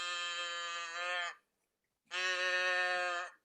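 A Moo Machine toy gives two long, buzzy electronic moos meant to imitate a cow, each lasting over a second and separated by a short silence, loud and close.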